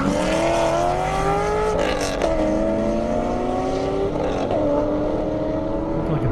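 A 1,000-horsepower drag race car launches on an airport airstrip half-mile course, its engine roaring loud and close with rising revs and gear changes across several seconds, no voices over it.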